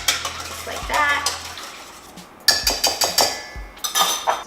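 Two eggs are whisked in a bowl for gluten-free pizza dough, bursts of rapid metallic clinks and scraping against the bowl, close and loud, with a brief pause between runs.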